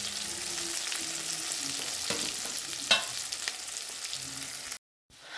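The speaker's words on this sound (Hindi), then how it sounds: "आलू फ्राई करने के लिए डाल दिया। इसी में फिर मैंने हल्दी डाल दिया और अभी मैं इसको चला रही हूँ।" Potatoes frying in oil with cumin and turmeric make a steady close sizzle, with a brief sharper scrape of stirring midway and a short drop to silence near the end.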